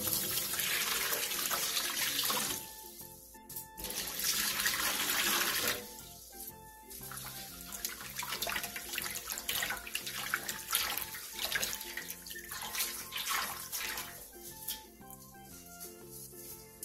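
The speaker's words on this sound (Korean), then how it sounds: "길게 칼집을 넣은 뒤 물에 두 번 정도 깨끗하게 씻어내주세요" Cut young ponytail radishes (altari) being washed in a bowl of water for kimchi, with bursts of running tap water and splashing, sloshing and clinking as the radishes are rinsed, close and fairly loud, with no talking.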